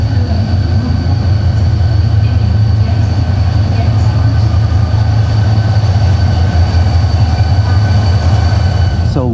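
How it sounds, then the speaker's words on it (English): A passenger train arriving at a station in Andong, South Korea rumbles steadily close by, a deep continuous roar with faint metallic squeals and a brief screech near the end as it slows. "the 9:36 train is right on time, early for that matter"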